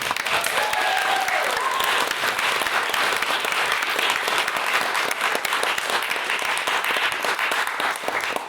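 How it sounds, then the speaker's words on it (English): Steady, dense applause from a debate audience at Queen's University Belfast, a full room clapping loudly and evenly for the speakers without letting up for the whole stretch. "I think a round of applause is due again."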